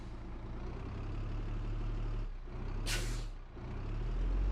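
Air brakes on a bus in the BeamNG.drive driving game give a sharp hiss over a steady low engine idle, a single loud burst lasting about half a second.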